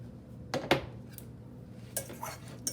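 Potatoes tossed with grated Parmesan cheese, with a few clattering clinks and scrapes of utensils against a bowl or pan, spaced out against a quiet background.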